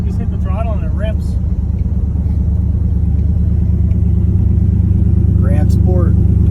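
A supercharged LT4 V8 in a Superformance Corvette Grand Sport rumbles loudly at close range, idling with a deep, steady, throbbing burble; brief speech is heard over it near the start and end.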